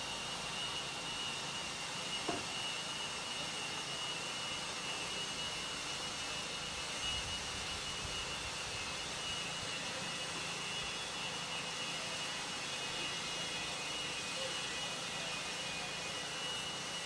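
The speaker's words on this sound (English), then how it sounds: "Marshals, grab your blowers. Start blowing off your areas." Leaf blowers clear an RC buggy raceway track between qualifying races, giving a steady, unbroken whooshing drone with no speech over it.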